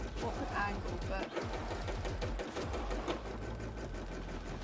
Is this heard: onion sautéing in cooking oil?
no